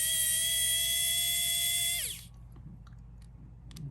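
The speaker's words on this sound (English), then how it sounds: "Here's my little trusty screwdriver, mechanical one, because I hate using the manual one." A small electric screwdriver backs screws out of a G-Shock DW6900 watch, giving a steady high whine for about two seconds that winds down and stops, followed by a few faint clicks.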